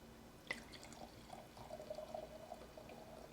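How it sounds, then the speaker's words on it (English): Italian Arneis white wine poured from a bottle into a glass, a faint clink followed by a soft, steady trickling stream that lasts a couple of seconds in a quiet room. "So we're going to go ahead and pour."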